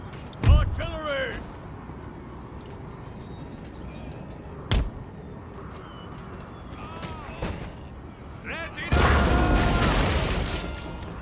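Artillery fires during a Total War video game battle: heavy booming blasts land at intervals over ongoing battle noise, the last swelling into a sustained rumble, with voices shouting in the mix.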